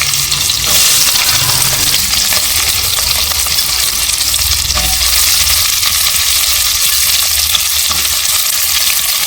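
Chopped onions frying in hot ghee make a loud, dense, continuous sizzle with no talking, close and steady throughout.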